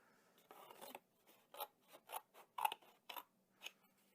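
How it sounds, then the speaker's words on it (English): A pair of scissors snipping a straight line in from the edge to a circle, about a dozen crisp close cuts in a steady, slightly uneven rhythm, quiet overall with no talking. "you're going to take a nice pair of scissors, and you're going to cut a line straight from the edge straight down to the circle"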